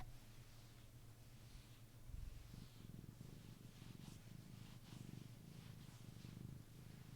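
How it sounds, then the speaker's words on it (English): A pet cat purrs close to a microphone with a soft, continuous rumbling throb that runs steadily throughout. The purring is faint overall and has a few slightly louder swells, and no one speaks over it. "I wonder if I can get him to purr into the microphone."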